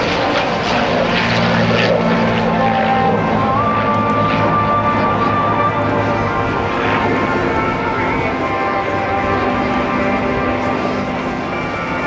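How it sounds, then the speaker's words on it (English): A World War II P-51 Mustang flies in a USAF Heritage Flight at the 2010 NAS Oceana Airshow, its propeller engine roaring loud and steady throughout, with a slight pitch shift as it passes. "as we see now Dan Friedkin in the F in the P-51 Mustangs"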